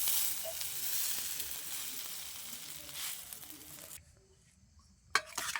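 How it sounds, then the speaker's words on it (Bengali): Chowmein stirred and fried in a pan, a continuous loud sizzle with scraping stirs that cuts out abruptly near the end, followed by a short clatter and a return of frying. "চাউমিনটা নাড়া হচ্ছে"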